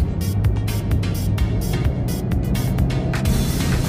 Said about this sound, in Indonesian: kedengaran mobilnya langsung meraung ya. Jadi memang dari RPM-nya itu langsung tinggi ya